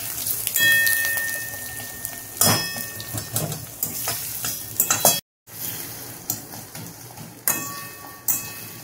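Chopped onion with green chilli frying in a pan for a Rajasthani dal baati churma, a steady close sizzle broken by loud stirring scrapes, with a brief dropout in the middle.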